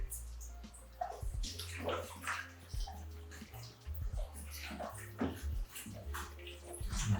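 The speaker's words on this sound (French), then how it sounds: "Donc on va recouvrir la cuve d'eau déminéralisée." Distilled water poured into a film developing tank over the reel, a close, steady watery rush with sloshing and gurgles over a low hum throughout.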